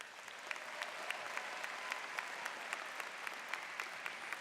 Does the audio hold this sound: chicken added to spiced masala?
no